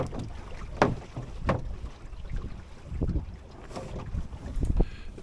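Wind gusts buffet a dinghy sailing on Lake Ullswater, loud blustery rushes and microphone buffeting rising and falling in waves over faint water sounds, with no voices.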